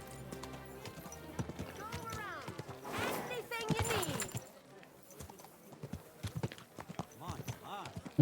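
Hooves of a horse clip-clop at a walking pace in the medieval video game Kingdom Come Deliverance 2, quiet and close, with a short whinny and someone talking over parts of it.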